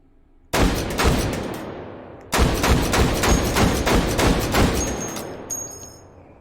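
Rapid semi-automatic M107 rifle fire inside the H3VR virtual range: loud, close, sharp reports in quick succession, a burst of about six, a brief pause, then roughly ten more evenly spaced shots that trail into echo.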